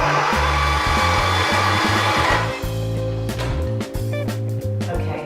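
A food processor churns a nut paste with cacao and maple syrup in a loud, steady motor whir, close by, with the grinding texture shifting partway through and small clatters near the end.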